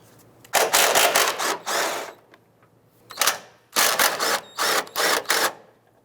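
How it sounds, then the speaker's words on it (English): A 13mm socket ratchet works the engine mount bolts on a Ford Escape, giving several bursts of rapid clicking separated by short pauses, close and clear. "Using a 13mm socket and the extension, we're going to go ahead and remove the two bolts securing the mount to the chassis."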